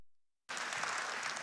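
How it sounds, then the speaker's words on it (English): After a brief silence, applause bursts in abruptly and continues as a steady wash of clapping from a crowd. "That already deserves, I think, a round of applause."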